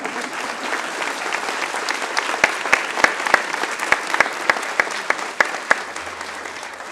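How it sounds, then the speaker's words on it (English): Warm applause from a crowd at a college of pharmacy white coat ceremony honoring pharmacy students, a continuous wash of clapping with sharp nearby claps standing out over it, steady for about seven seconds. "Let's give them a round of applause."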